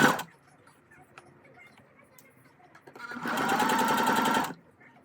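A sewing machine runs a burst of rapid, even stitching along the pinned edges of a folded fabric strap, loud and close for about a second and a half before stopping, with quiet room noise either side.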